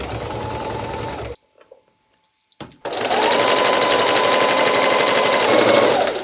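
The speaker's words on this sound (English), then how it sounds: "And we're just going to sew along this edge." A sewing machine stitching along a fabric edge runs in a steady rapid whir, stops for a quiet pause of about a second and a half, then starts again and runs continuously to the end.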